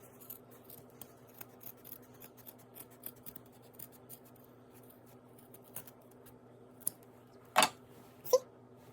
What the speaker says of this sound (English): you're just going to cut the excess off